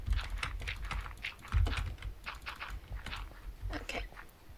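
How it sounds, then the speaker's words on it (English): Rapid mouse clicking while playing Minecraft, a fast irregular stream of sharp clicks and taps up close, with faint background noise. "You get to listen to me spam clicking."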